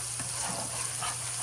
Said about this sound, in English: So fry it well before you put your ground beef.